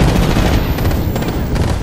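Dense, rapid gunfire in the online shooter Apex Legends rattles close and loud as a continuous burst of overlapping shots lasting under two seconds, with no talk over it.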